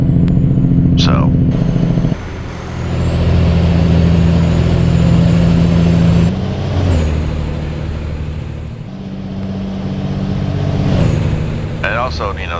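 A heavy truck engine pulls a load in American Truck Simulator, a loud low droning rumble that rises and falls with gear changes, joined by a rising whine and occasional hissing bursts, with someone talking over it.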